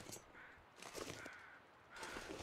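Crows caw in The Long Dark survival game, with three bursts of harsh calls spread across the moment, moderately loud over a faint ambient wind bed.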